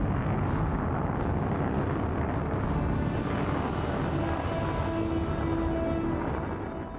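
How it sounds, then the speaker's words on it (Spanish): The Apollo 11 rocket launches in Florida in July 1969 with a massive, continuous roaring blast, a dense broadband rumble that stays loud and steady throughout with faint crackles, easing slightly at the end. "La tranquilidad de la madrugada se ve sacudida por una enorme explosión."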